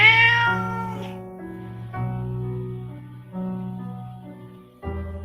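Kittens meow repeatedly outdoors, several loud, close calls in quick succession with short pauses between them and no talking.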